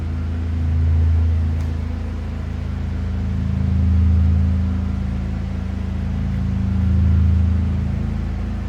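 Pininfarina Battista electric hypercar sitting still, emitting an artificial pulsating hum from hidden external speakers meant to mimic an idling engine; a steady low drone swells and fades in slow waves about every three seconds.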